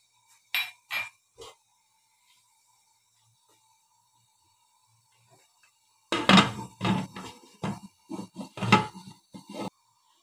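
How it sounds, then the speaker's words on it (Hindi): A lid goes onto a cooking pot of turnip and mutton curry, giving a few quick clinks and knocks, then a long silence before a denser run of metallic clatter and taps near the end. "ढक्कन बंद करेंगे।"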